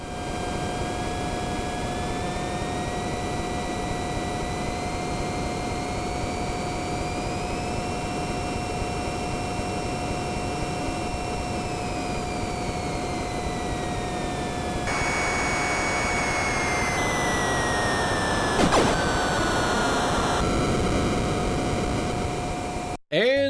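Jet fighter engine drone from an NES video game, a steady synthetic whine with rising and falling tonal sweeps over broadband noise, continuous and loud throughout, shifting in pitch partway and cutting off abruptly at the end.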